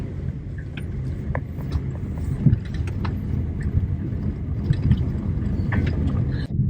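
A car drives slowly across a residential yard in Mexico, its low engine rumble steady and close throughout, with small knocks and bumps scattered over the drone.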